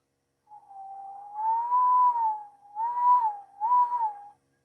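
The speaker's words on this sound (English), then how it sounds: "start from that low note and then get to that high note and whistle every note in between" A single clear whistled tone slides and wavers between a few close pitches in three connected phrases, with short gaps, steady and close.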